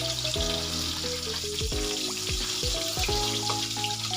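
Milkfish (bangus) fries in a pan with a constant bright sizzle and crackle throughout, overlaid by shifting tonal sounds; no voices are heard.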